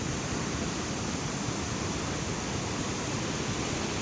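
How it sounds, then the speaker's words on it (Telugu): Loud, steady roar of rushing river water at the Kinnerasani bridge, a continuous broadband wash with no breaks, close and dominant with no talk. "చూడండి చాలా భయానకంగా ఉంది సౌండ్ చూడండి ఎట్లా వస్తుంది వాటర్ అలా సౌండ్"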